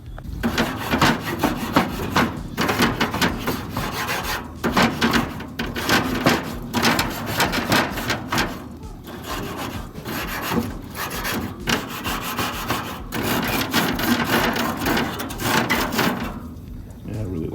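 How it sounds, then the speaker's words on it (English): A bristled grill brush with ridged scrubbing surfaces is worked back and forth over grill grates. The close, rhythmic rasping strokes repeat steadily throughout, with a voice faintly present. "This really does a good job of cleaning those grates."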